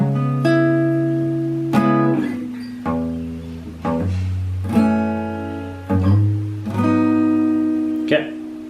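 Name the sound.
guitar playing first part of a song intro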